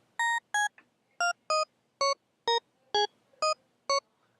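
A series of short, bright FM-synthesized tones from a 1970s-style harmonic synth patch in a stepping melodic pattern, each a clipped beep-like note, played alone with small pauses between.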